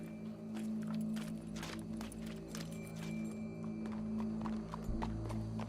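Horse hooves clip-clop in a steady walking rhythm over a constant low hum and background ambience in the video game Red Dead Redemption 2, moderately close, with no talking.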